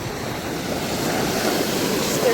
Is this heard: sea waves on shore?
yes